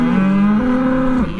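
A cow moos close and loud during a cattle drive, one sustained low bellow that holds steady and then tapers off.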